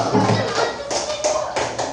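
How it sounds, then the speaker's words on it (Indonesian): A third-grade class in an Indonesian classroom claps for a student group, a ragged burst of hand claps with scattered taps and voices murmuring underneath. "Tepuk tangan untuk kelompok 3."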